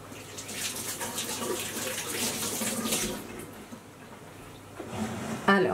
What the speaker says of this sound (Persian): الانم که دستامو مجددن شستم چون که میخوام بقیه کار رو انجام بدم